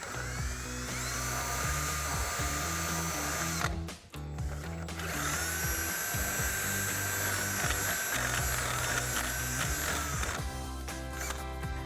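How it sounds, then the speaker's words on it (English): A power drill whines steadily at high pitch as it bores through a metal strut mount held in a vise, with a brief pause midway before the drilling resumes, loud and close. "we'll get this in the vise and drill that out"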